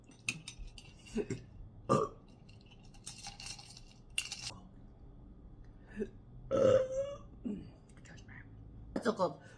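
A girl burps several times, short close burps spread out between quiet moments, with soft clinks and some faint speech around them.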